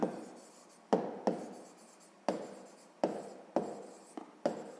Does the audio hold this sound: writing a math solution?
yes